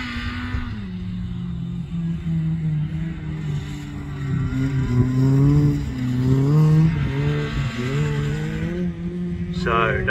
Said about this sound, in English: So on to the last lap we go then, Sally Doddridge in Forest 515.